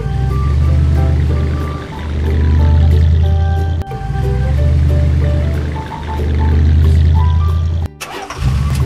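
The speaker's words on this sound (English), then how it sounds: "Pickup truck." Pickup truck engine turning over and running, a loud close low rumble that swells and dips in repeated waves, ending in an abrupt click and rattle, with no voices.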